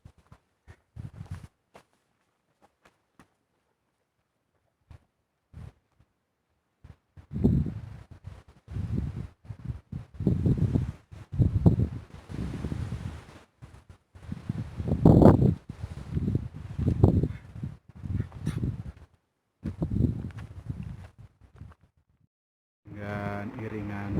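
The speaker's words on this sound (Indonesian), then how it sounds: "angin yang cukup kencang" Strong wind gusting across the summit of Mount Lawu, roaring in loud bursts against the microphone for most of the stretch after a quieter start, with brief pauses between gusts.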